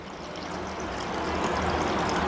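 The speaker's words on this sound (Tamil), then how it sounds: "தேவையான அளவு பாலை சேர்த்துக்கோங்க" Milk pours into a blender jar over soaked black grapes for a milkshake, a steady close stream of liquid that grows slightly fuller as it continues, with no voices.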